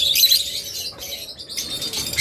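Pet lovebirds, cockatiels and budgerigars chirp and tweet nearby in bright, overlapping calls, with brief gaps and a soft flutter of wings.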